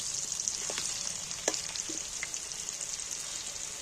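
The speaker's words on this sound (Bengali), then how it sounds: "আলুগুলো দেখো সুন্দরভাবে ভাজা হয়ে ভালো করে ভেজে নিই" Steady, bright sizzling of food frying in hot oil, with a few soft clinks and stirring knocks over the continuous crackle.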